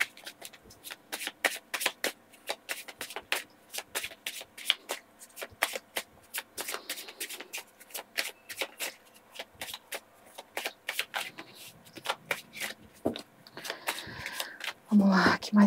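A deck of Exu cards is shuffled in a spiritual card reading, with a rapid run of crisp, close riffling flicks and a brief rustle near the end.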